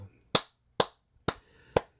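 Four sharp, evenly spaced hand claps, close and crisp, each standing alone with silence between them.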